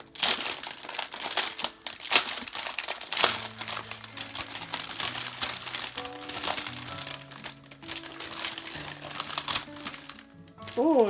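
Crinkly plastic packaging from a Diamond Art Club painting kit being opened, a steady run of rustling and crackling with some clicks, heard close up over soft background music.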